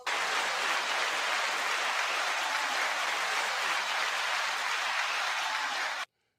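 Applause fills several seconds with a dense, even roar of many hands clapping at once, loud and constant from start to a sudden cutoff, with no voices over it.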